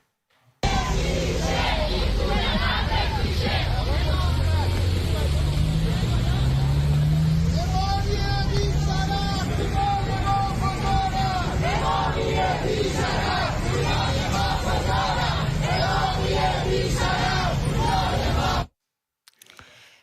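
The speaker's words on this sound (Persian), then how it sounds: "گزارش بعدی ما هم در رابطه با اعتراض خریداران حواله‌دار شرکت مدیران خودروه" Car buyers of the Modiran Khodro company protest in a crowd, with loud overlapping shouting and chanting voices and babble, traffic noise underneath, running continuously before cutting off abruptly near the end.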